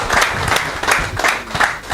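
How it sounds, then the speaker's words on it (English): A small crowd at a speaking event gives a brief, thin round of applause, heard as sparse hand claps that swell in a few bursts over two seconds. "that round of applause was really small"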